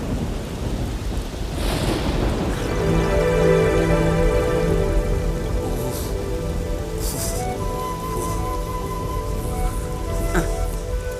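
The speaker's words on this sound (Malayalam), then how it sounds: "എന്തൊരു മഴയായത്!" Heavy rain pours in a dense, constant roar, with deep rolling thunder swelling through the middle and a few sharper cracks and splashes, loud and close throughout.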